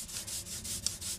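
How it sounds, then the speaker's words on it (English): Black lino printing ink is rolled out with a roller in repeated back-and-forth strokes, giving a soft, rhythmic tacky hiss about five times a second, close and quiet. "the sound of the ink in the roller"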